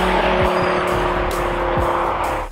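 A high-revving Lamborghini Gallardo Superleggera's 5.2-litre V10 engine screams loudly, its pitch sweeping down and back up as it shifts or passes.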